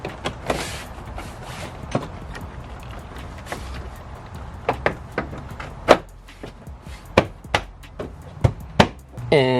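A door panel is pressed back onto a Nissan Titan door, giving a series of sharp clicks and snaps that grow louder and more frequent toward the end, with faint handling noise between them.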